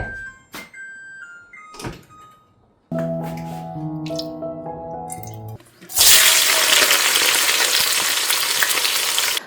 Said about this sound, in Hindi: प्याज को ब्राउन नहीं करना, बस थोड़ा सा फ्राई करना है।